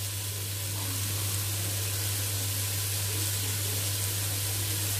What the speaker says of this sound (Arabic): اشوح بقى ده كله مع بعض كده